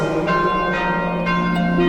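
A tower bell on a hilltop Benedictine monastery rings in steady, resonant strokes, each strike blooming into a long sustained hum of overlapping tones that never fully decays before the next.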